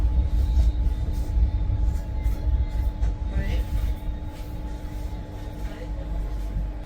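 A train idles at platform 2 of Ludhiana Junction railway station in Punjab, India, train number 11058, with a low steady rumble and hum, faint clanks and background voices around it.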